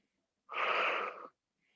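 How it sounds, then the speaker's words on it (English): One deep audible breath during a vinyasa sculpt yoga class, a single smooth rushing exhale lasting under a second, close and fairly loud with silence before and after. "Breathing deeply."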